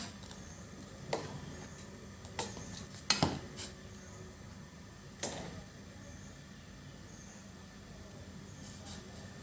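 Bubur candil being stirred in a wok: sparse scraping and clinking of a utensil against metal, several distinct knocks spread apart, fairly quiet and with no voices.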